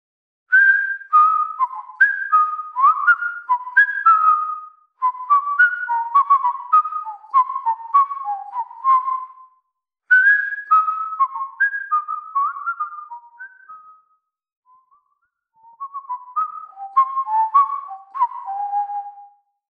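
A whistled melody used as an ambient sound in Wwise and Unity, with clear tonal phrases repeating in separate runs and short gaps of silence between them, with no other sounds.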